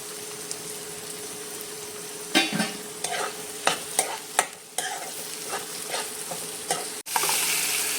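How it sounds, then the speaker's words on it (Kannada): Tomatoes frying in a pan with salt for dal fry, a low steady sizzle broken by repeated scraping and clattering stirs of a spoon, then a louder hiss in the final second. "ಟೊಮೆಟೊ ಸ್ವಲ್ಪ ಫ್ರೈ ಆಗಲಿ"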